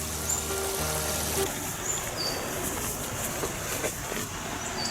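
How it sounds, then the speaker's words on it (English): A babbling brook trickles and gurgles steadily throughout, a continuous watery wash close by, with a low hum fading out early on and no talking. "I've never known a sound as irritating as that of a babbling brook."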